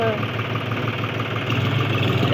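A Mahindra Junior 4x4 tractor engine idles steadily on a farm while bales are loaded into a trolley, a continuous low rumble with mechanical vibration that holds an even level throughout.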